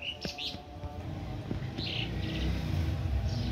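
A bird calls from high in a tree outdoors in a rural setting, with a few short chirps that are fairly faint and distant, over low rustling background noise.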